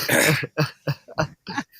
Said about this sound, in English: I can't stop coughing because I have something stuck in my throat